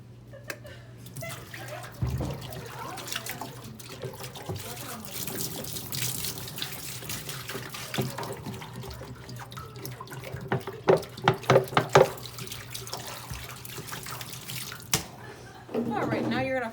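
Tap water running into a sink while an endoscope is cleaned with distilled water flushing, a steady faint splash with scattered drips and clatters, and a louder gush at the end.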